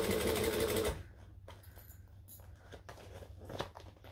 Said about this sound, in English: You really want to sew up against this piping.